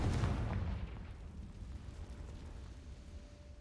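A Confringo fire spell blasts in the Hogwarts Legacy video game, a loud booming explosion at the start that rolls off into a long, fading rumble with no voices.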